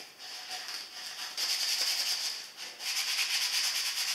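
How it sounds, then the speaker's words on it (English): Coarse 60-grit sandpaper is worked by hand along the edges of a wooden storage box, giving a close, steady scratchy rasp in long back-and-forth strokes with brief pauses between them. "I'm going to take a coarse bit of sandpaper, this is 60 grit. and I'm just going to work it around these edges."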